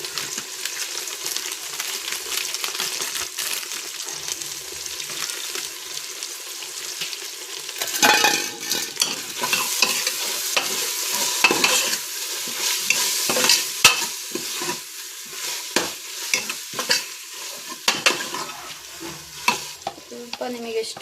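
Ginger garlic paste sizzles steadily in a pan for tomato bath, with repeated scraping and stirring strokes and occasional light clinks, loud and close throughout with no talking.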